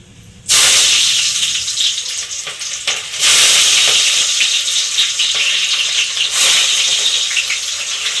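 Onions frying in a hot pan for tomato rice, a loud steady sizzle that bursts in as they hit the oil, with stirring scrapes and a second surge of hissing partway through.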